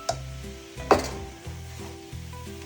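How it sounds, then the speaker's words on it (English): Beef and vegetables go back into a pan of thickened kung pao sauce, giving a soft sizzle with a sharper clatter near the start and a low hum underneath, close and quiet, with no voices. "we're gonna add our meat back into the pan"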